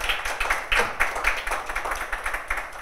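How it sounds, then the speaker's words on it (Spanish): At a panel discussion on the creative economy in cinema, an audience gives moderate applause, the individual claps fairly distinct and steady over a few seconds. "gracias Elaine, un aplauso"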